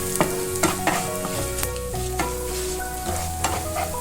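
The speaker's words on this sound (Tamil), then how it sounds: "என்கிட்ட கட்டி பெருங்காயம் இல்லை, அதனால் நான் தூள் பெருங்காயம் சேர்க்குறேன்." Powdered asafoetida crackles and sizzles in hot oil for a pongal tempering, with a spoon scraping and stirring in sharp, irregular clicks over a steady frying hiss, close and alone.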